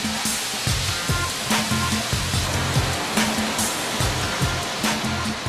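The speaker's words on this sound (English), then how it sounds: "this huge drum spins the material with water to sieve out any remaining pieces of stone" Huge rotating drum spinning mineral-rich sand with water to sieve out stone, giving a loud, continuous rushing wash of water and grit with a rhythmic low churning thump repeating about every second.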